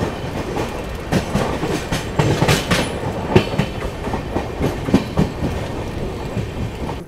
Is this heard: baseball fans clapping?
no